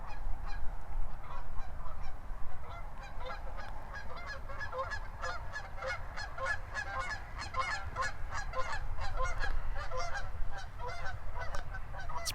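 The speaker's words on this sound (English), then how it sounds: "Here comes a couple geese." Geese honk repeatedly overhead above a pond, a steady chorus of calls passing close by, loud and continuous with no talking.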